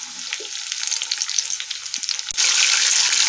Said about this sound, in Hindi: और इन्हें मैं अच्छे से फ्राई होने दूंगी स्लो गैस पे, जिससे कि ये अरबी हमारी अच्छे से गल जाए।